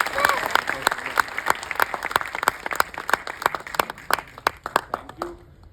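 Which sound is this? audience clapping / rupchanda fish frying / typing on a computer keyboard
audience clapping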